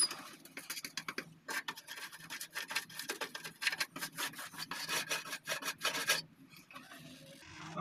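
A part for a Ford Falcon 221 gear selector being painted, heard as repeated close scratchy rasping strokes in a steady rhythm that pause briefly near the end.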